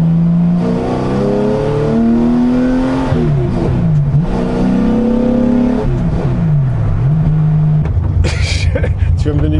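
Heard from inside the cabin, a loud Porsche engine revs repeatedly, its pitch climbing and dropping through several gear-like sweeps at low speed, with a steady rumble throughout and voices talking over it.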